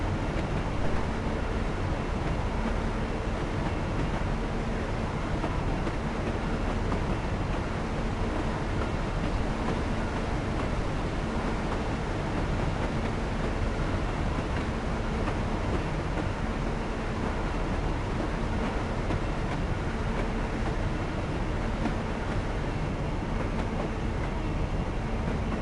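A train rolls along the West Coast Main Line in the Train Simulator game, giving a steady, dense rumble with continuous rail and wheel noise that holds even throughout without any talk.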